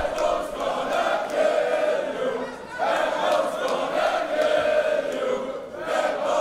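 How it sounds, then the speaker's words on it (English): A pro wrestling crowd at a World Cup event in Germany chants in a steady, rhythmic pattern, with a loud, dense mass of voices rising and falling in repeated phrases throughout. "Crowd are chanting, Bad Bones gonna kill you."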